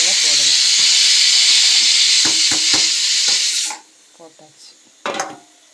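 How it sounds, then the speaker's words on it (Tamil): Prawns tipped into sizzling biryani masala set off a loud, steady hiss that cuts off abruptly, followed by a few scraping stirs and clunks of a spoon in the pan. "நம்ம ரெடி பண்ண இறாலை போடணும்."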